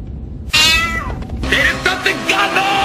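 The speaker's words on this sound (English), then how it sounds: "A cat!" A cat meows loudly and close, one long drawn-out call sliding downward, then a few shorter mews follow in a TV dub.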